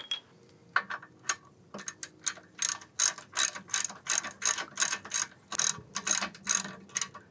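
A ratchet wrench snugs down the nut on a BMW E46 rear shock mount, giving quick bursts of sharp metallic clicks that speed into a steady rhythmic run, loud and close with no talk.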